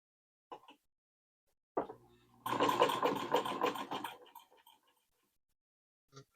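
A vintage sewing machine fitted with a Chadwick Zigzagger attachment runs a zigzag stitch: a few isolated clicks, then a short burst of rapid mechanical clatter lasting under two seconds, set against quiet.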